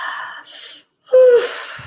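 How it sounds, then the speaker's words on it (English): A deep breath out during a guided meditation, a short airy exhale, brief pause, then a louder breathy release with a slight tonal catch. "Breathing in. And breathing out."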